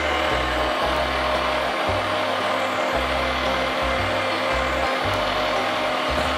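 An electric meat grinder churns deer sausage in a home kitchen, a loud continuous motor drone with a rhythmic low-pitched chugging that pulses roughly once a second as meat feeds through, running alone without talk.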